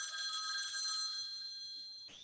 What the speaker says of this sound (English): something is ringing in my POS